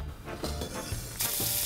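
Butter sizzling in a hot frying pan while cooking liver with garlic, a steady close frying hiss with soft clinks of stirring throughout.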